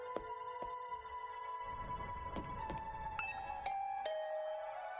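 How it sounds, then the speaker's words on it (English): A doorbell chimes in the video game The Hundred Line: Last Defense Academy, a clear tonal ding-dong ringing out over soft sustained game music, with no voices. "I rang the doorbell and could hear the bell ring on the other side of the door."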